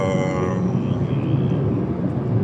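A Mercedes A200d W177 four-cylinder diesel engine drones while driving, a dull, husky low rumble heard steadily from inside the car over road noise.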